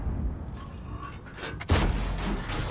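A tank gun firing in World of Tanks on the AC 4 Experimental, heard as a few distant shots and then one loud, close, booming blast with a rumbling tail.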